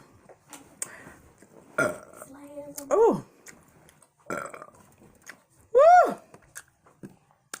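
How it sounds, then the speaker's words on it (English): A person lets out a couple of loud, drawn-out burps during a chicken mukbang, with brief spoken exclamations between them and soft eating and handling noises around. "Some good burps."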